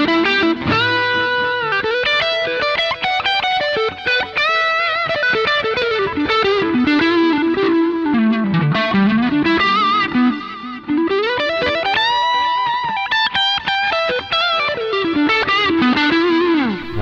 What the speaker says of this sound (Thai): ลองเปิด Overdrive จาก GT8 ดูลองเติมดีเลย์สักนิดหนึ่งครับ